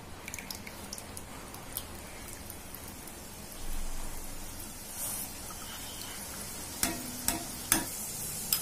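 Sweet boondi (gram-flour batter drops) fries in hot oil with a steady, rain-like hiss. A slotted ladle stirs it now and then, and a few sharper scraping clicks come near the end.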